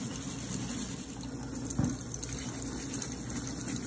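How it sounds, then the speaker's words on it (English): Cold tap water runs steadily over frozen shrimp in a kitchen to thaw them, a faint even stream with one brief knock partway through. "You're going to let cold water run on your shrimp until it's thawed."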